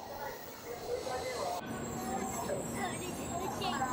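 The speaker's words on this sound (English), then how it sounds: "Our train is about to pull in right now" A Shinkansen bullet train pulls into a platform on the Tokyo to Osaka line with a steady rumble and faint wheel squeal, loud and close, with brief station sounds around it.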